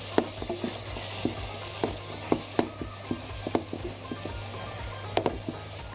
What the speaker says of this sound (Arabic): هبتدي انزل عليها بالبصل ونكمل تشويح